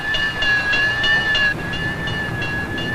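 A train runs along the railroad through a small southern town, a steady distant rumble with a sustained whistle-like tone held over it for the full stretch.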